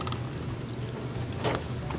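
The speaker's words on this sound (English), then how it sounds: "We're pulling off the modular connections on the dryer control." Plastic modular connectors pinched and pulled off a Whirlpool dryer control board, giving soft mechanical clicks and creaks over a steady low hum, with one sharper snap near the end.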